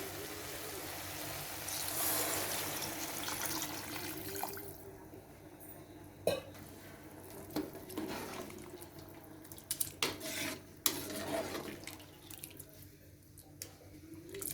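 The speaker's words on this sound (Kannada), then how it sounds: "ಚೆನ್ನಾಗಿ ಮಿಕ್ಸ್ ಮಾಡಿ 1-2 ಲೋಟ ನೀರು ಹಾಕ್ತೀನಿ" Water poured into a pot of palav and mixed in, a soft running, splashing pour at the start that fades into wet stirring squishes and occasional spoon knocks, quiet and close.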